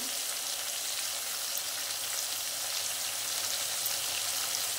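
Prawns sizzle in a pan with salt, turmeric, cumin and coriander powder, giving a steady, even crackling hiss that continues without a break and with no talking.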